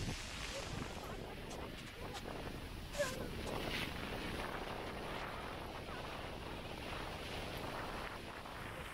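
Strong wind from Cyclone Remal blows steadily and roughly against the microphone outdoors, a continuous broadband roar with brief gusts and no voices.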